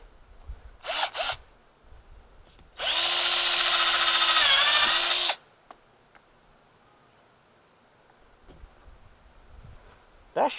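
A power drill whirs steadily for about two and a half seconds during a session of taking apart electronics, with brief handling clicks and rustles before and after in an otherwise quiet room.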